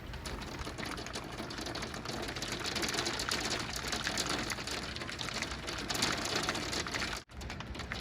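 Hail pelting down in a sudden Canadian hailstorm, a dense, steady rattling roar of countless small impacts that holds loud and unbroken throughout, with a brief dropout near the end.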